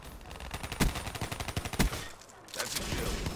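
Pistol fire in a video game gun game match rattles off in a rapid run of sharp, closely spaced shots, with two louder bangs standing out, then a short lull and a few more shots.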